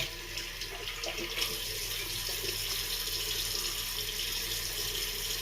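Water running steadily from a tap at a sink while a face is wetted for shaving, a faint continuous hiss and splash with no speech.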